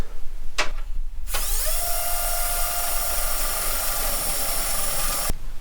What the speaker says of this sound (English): Okay, I got 2 nice big holes drilled out underneath it.